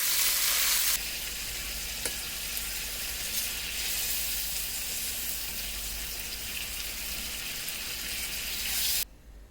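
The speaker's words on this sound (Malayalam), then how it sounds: "ബാക്കി നമുക്കിത് നമുക്ക് ഫ്രൈ ചെയ്തെടുക്കാം." Prawns fry in a pan, making a steady, dense sizzle that runs unbroken at close range before cutting off sharply near the end.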